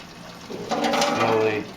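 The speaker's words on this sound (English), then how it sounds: "slowly pour this back over the grain bed" Dark stout wort poured from a quart container back over the grain bed during a home brew day, a short soft splashing trickle that swells midway through, quiet and close.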